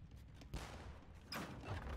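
A bombard cannon fires in a real-time strategy game battle, with two heavy, booming blasts about a second apart over a continuous wash of combat noise.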